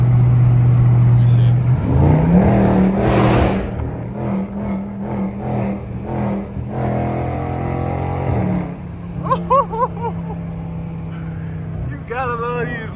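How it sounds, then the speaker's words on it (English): A catless Dodge Scat Pack Mopar engine roars and revs hard from inside the car, a loud surge with bursts and pops before settling, while people talk over the drive. "These cars so loud, bro."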